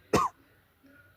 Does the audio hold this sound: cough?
yes